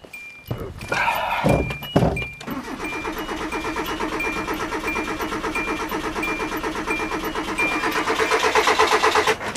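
A wet, flooded Hyundai engine cranks without catching: a few thunks, then a starter whirring in a steady rhythmic churn that runs on for several seconds, loud and close, with no ignition.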